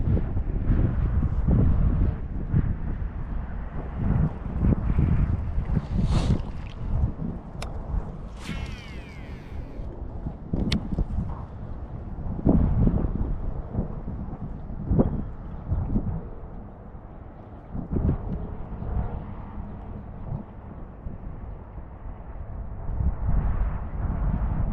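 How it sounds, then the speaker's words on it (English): Strong wind buffets the microphone continuously while bass fishing from a boat in South Jersey, a heavy low roar with gusty swells and occasional faint mechanical clanks, no talking. "I wish the wind would calm down"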